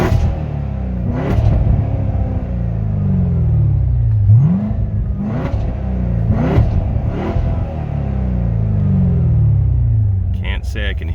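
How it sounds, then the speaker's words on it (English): A supercharged Chevrolet Corvette C7 Z06 with a Weapon X supercharger lid, in eco mode, is revved several times, the engine rumbling up and falling back in repeated close, loud sweeps while someone talks over it. "I'm just gonna give it some revs, see if we can hear the whine."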